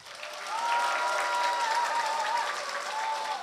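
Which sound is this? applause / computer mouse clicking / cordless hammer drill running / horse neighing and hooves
applause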